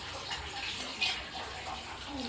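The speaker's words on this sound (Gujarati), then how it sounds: "અહીંયા પાણી એક જ ધારું ટપકા રાખે" Water trickling steadily inside the Tapkeshwar Mahadev temple at Osam Hill near Patanvav, a continuous soft gush and splash of falling water heard alone, close and even throughout.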